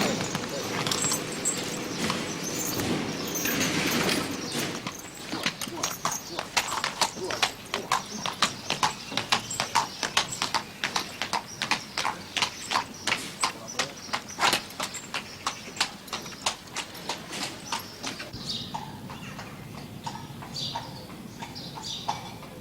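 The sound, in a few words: working horse's hooves clip-clopping on Dublin street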